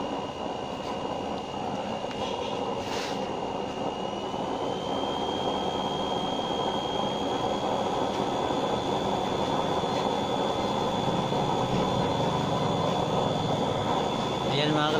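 A waste cooking oil burner stove runs at high flame, giving a loud, steady roar with a rumbling vibration that continues throughout, joined by a faint steady whine.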